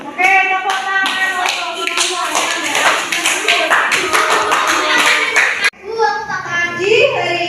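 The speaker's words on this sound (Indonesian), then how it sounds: "Oke, tepuk tangan." A classroom group clapping hands in rhythmic bursts, loud and close, with children's voices mixed in and talk resuming near the end.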